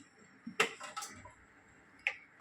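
A kitchen stove being lit for cooking a seafood feast gives a few sharp, close igniter clicks, two quick ticks early and another near the end, in otherwise quiet surroundings.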